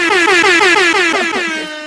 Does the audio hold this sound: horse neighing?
no